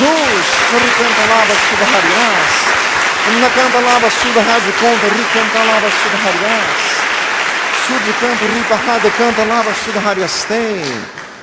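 A church congregation claps and cheers loudly and continuously throughout, with a voice speaking over the applause.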